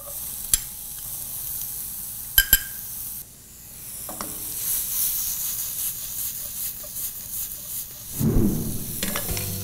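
Minced garlic and finely chopped onion sizzle steadily in olive oil in a pan, a continuous close frying hiss broken by a few sharp clinks and stirring scrapes, swelling louder near the end.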